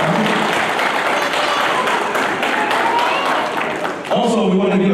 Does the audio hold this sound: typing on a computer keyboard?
no